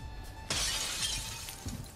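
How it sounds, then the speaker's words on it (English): Glass shatters in a first-person sniping video game, a sudden bright crash that rings on for about a second and a half, followed by faint thuds, with no talking. "She broke glass on B."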